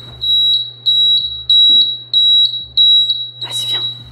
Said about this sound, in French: C'est une alarme, hein.